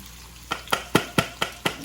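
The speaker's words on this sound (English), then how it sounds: "now we're about to put in our red onions" Red onions go into a hot pan to be sautéed for a goat garam masala: six sharp, evenly spaced knocks, close and loud, over a faint background hiss.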